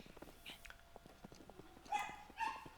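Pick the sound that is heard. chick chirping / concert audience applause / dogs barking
dogs barking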